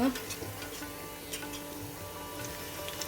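Coconut manchurian balls frying in oil on a medium flame, giving a steady low sizzle with faint ticking and stirring clicks throughout, with no talk over it.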